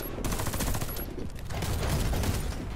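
Steady gunfire in the Warface shooter game, a dense rattling stream of automatic shots blending into a loud, continuous roar across the whole stretch.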